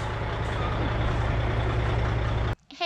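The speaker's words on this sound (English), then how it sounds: "we got the truck here and they're gonna drain our tank" A septic pumping truck idles close by with a loud, steady diesel rumble, then the engine noise cuts off abruptly near the end, leaving a brief quiet moment.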